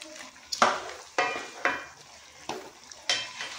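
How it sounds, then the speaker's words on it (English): A spoon stirs a pot of Nigerian edikang ikong vegetable soup made with ugu and water leaves and periwinkles. About five distinct wet scraping strokes come at a slow, even rhythm, each fading before the next. "Now while I've done that, I'll just stir that to incorporate"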